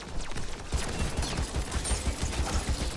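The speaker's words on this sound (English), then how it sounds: "They're shooting at me" Enemy gunfire in the shooter game Crucible rattles steadily throughout, rapid repeated shots forming a dense, constant barrage at moderate loudness.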